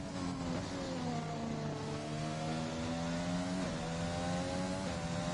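Several Formula 1 cars in the F1 2020 game pull out of the pit lane at the Austrian circuit, their engines droning and climbing through gears in overlapping harmonic whines, steady and fairly loud with no talk.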